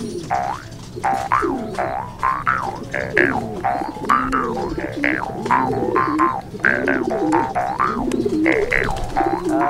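Pigeons coo repeatedly at a fancier's loft in Zambales, Philippines, with overlapping rhythmic calls from several birds close by and a steady low background hum throughout.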